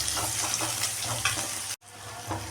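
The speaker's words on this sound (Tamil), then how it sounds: "கட் பண்ணி வச்சுருக்க வெங்காயத்தையும் ஆட் பண்ணிக்கோங்க. பொருளெல்லாம் வதக்கிக்கலாம்." Onions sauté with mustard seeds and curry leaves in a pan for sambar, a loud, continuous close sizzle with stirring and a brief dropout partway through.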